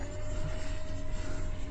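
A Freewing Raptor 70mm Lite RC model jet flies past at a flying field, a faint, steady whining hiss of the ducted fan with no talk over it.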